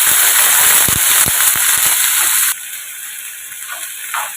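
Chopped ivy gourd (kovakka) with salt hitting a hot pan: a loud steady hiss and sizzle with a few scraping stirs, then a sudden drop to a quieter, softer sizzle.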